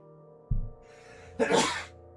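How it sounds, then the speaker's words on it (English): A single sneeze with a short sharp intake beforehand, then a loud explosive burst, close by, over a faint steady hum. "I'm about to sneeze."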